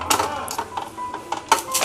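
A hand-pulled vegetable chopper cutting tomato pieces, giving a quick series of sharp, close clicks and whirs in an irregular rhythm.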